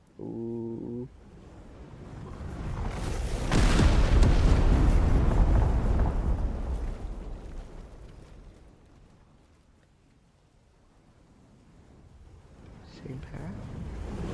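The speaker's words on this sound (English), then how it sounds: "I think there's one last building I want to destroy, and I know exactly. Asteroid strike." A video-game asteroid strike hits a building with a sudden heavy roaring impact that swells into a long rumbling crash, fades to near silence, then stirs again at the end.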